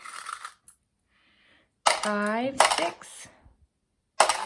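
A few pennies clink sharply into a bucket, one at a time, while a voice counts aloud between drops.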